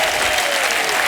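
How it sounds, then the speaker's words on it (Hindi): A studio audience on a Hindi TV comedy talk show breaks into loud, sustained applause, a dense steady wash of clapping that fills the space without pause. "जोरदार तालियां अन्ना के लिए।"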